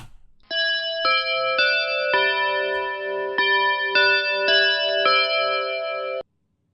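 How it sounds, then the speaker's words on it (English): A grandfather clock chime sequence played back by a Python script on Linux: a clear series of about eight bright, ringing bell-like tones in a steady descending-and-rising melody, each sustaining into the next, then cutting off abruptly. "So we're playing our first chiming sound."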